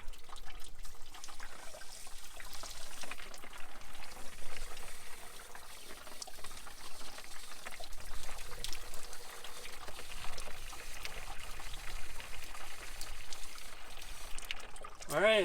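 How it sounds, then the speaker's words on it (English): Water from a garden hose runs steadily, pouring and splashing as it flushes through the heater hose of a Jeep XJ; the continuous rush holds at a fairly even level for the full length. "the water that's coming out of the heater hose is clear"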